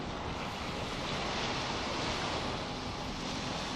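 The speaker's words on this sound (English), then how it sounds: "And great sound with the waves." Ocean waves breaking on the beach at Atami, a constant broad wash of surf with wind rumble, steady and fairly close, with no voices.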